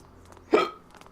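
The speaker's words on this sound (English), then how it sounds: "Oh, man. Hiccups." One sharp hiccup from a character in the Back to the Future video game, loud and close, over a faint background.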